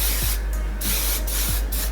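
Hairspray misted onto freshly curled hair in repeated short hissing bursts, about three sprays with brief pauses between them, close and fairly loud over a low steady hum.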